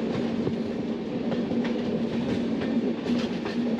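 Grand Trunk Express passenger train running on rails, a steady close rumble with faint rhythmic clatter of wheels over joints throughout, no voices.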